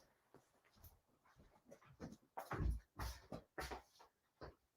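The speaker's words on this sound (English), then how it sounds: "my dog is going crazy on the porch" Excited dog playing with a ball on a porch, giving a run of quick whimpers, pants and yips that rise and fall in bursts over the whole stretch, fairly close and with no talk.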